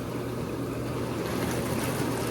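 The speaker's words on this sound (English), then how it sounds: "You have setting number one, which activates the waterfalls and it activates these two jets right here." Jacuzzi waterfalls and two water jets running at a steady, continuous rush with a low hum, close by and uninterrupted, with no voices.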